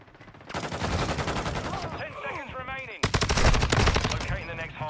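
Uzi submachine gun fire in Modern Warfare 2, loud and close, coming in dense rapid bursts with a brief pause between them, while a voice talks over the shooting.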